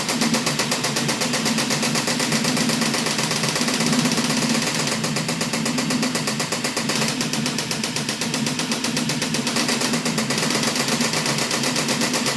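Rapid gunfire from a retro shooter video game, a dense run of fast mechanical shots that goes on without a break and plays alone at steady loudness.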